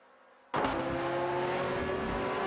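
A GT4 field of a Lotus Evora GX GT4 and an Aston Martin Vantage GT4 in a racing game, with engine roar bursting in suddenly and holding as a loud steady drone of close racing cars.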